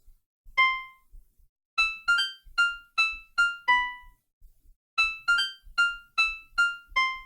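Synthesized melodic notes from a song's opening measures programmed in the TunePad browser music tool, a clean, bright, plucky tone playing two rhythmic phrases of evenly spaced notes separated by a short pause, with no talking.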